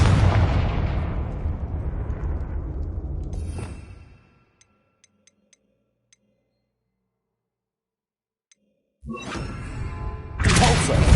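Confringo fire spell blasts in the video game Hogwarts Legacy: a loud booming explosion that fades over several seconds into near silence with faint ticks, then fresh bursts crash in at the end.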